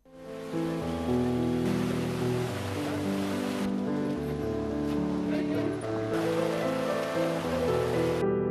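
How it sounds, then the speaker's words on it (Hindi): A waterfall at Sariyatal near Nainital pours with a steady, loud, dense rush of water that stays constant throughout, close and unbroken. "सड़ियाताल का ये झरना सैलानियों की खासा पसंद बन गया है।"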